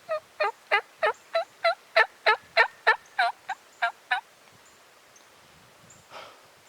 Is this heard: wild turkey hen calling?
yes